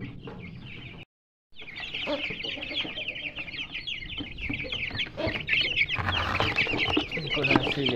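A Thai Aseel rooster and hens, kept with a desi hen, cluck and chatter close by in repeated bursts, with a brief silent gap early on and the clucking growing busier toward the end.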